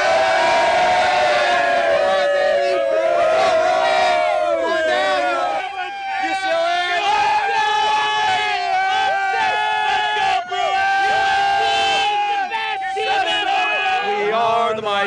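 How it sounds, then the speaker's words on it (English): UCLA Bruins fans in the stands at a 2005 football game against Stanford in Palo Alto make a loud, continuous roar of voices. Sustained pitched tones suggest the crowd is singing or chanting together rather than only cheering. "Cheering on the Bruins."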